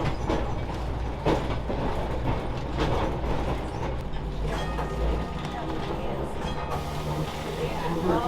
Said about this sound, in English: We stopped to pick up a pair of passengers who flagged down the trolley.